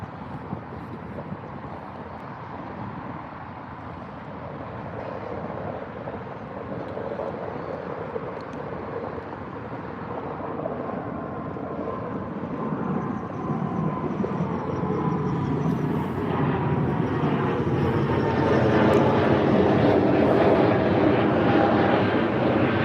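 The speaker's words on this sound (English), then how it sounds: "Up next looks like Air France on the A220 going out to Charles de Gaulle" An Air France Airbus A220 departs Heathrow with a long engine roar that swells gradually, louder and brighter toward the end as the jet draws nearer, with wavering tonal sweeps and no speech.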